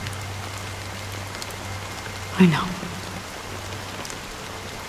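Steady rain falls in the Honkai: Star Rail video game, an even continuous hiss throughout, with a brief spoken phrase partway through.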